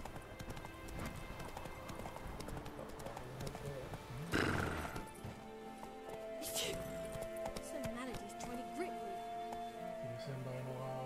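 Roach the horse trotting in The Witcher 3, steady clip-clop hoofbeats running throughout at moderate distance, with a brief whinny-like burst midway and people talking over it.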